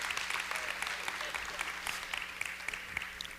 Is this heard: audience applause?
yes